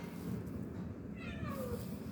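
A street cat meows close by, one drawn-out falling cry in the second half over a steady background hum, with no voices.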